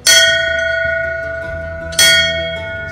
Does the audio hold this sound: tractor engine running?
no